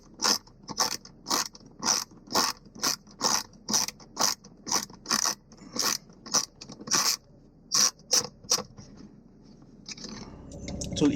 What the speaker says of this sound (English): get a 7mm socket for the screw over here, and then just remove that screw.